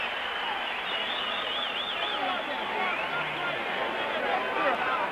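A boxing crowd cheers for boxer Terry Daniels, a steady broad roar of many voices at an even level throughout, with no single voice standing out.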